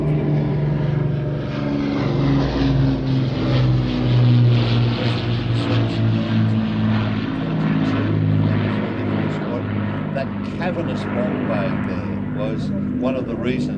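A vintage Avro Lancaster bomber flies at the Midlands Air Festival, its piston propeller engines giving a loud, sustained droning roar that holds steady throughout while a voice talks over it.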